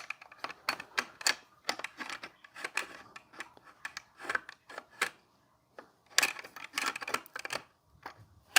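Metal clicks and scrapes of an Arsenal AK-47 bolt carrier being lined up and fitted into the rifle during field stripping, a close, irregular series of sharp taps and rubs with short pauses.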